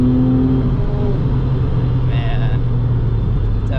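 A 2002 Porsche 996 Targa 911 engine accelerating on a canyon drive, a loud, close, steady drone and rumble from inside the car with a rising tone near the end.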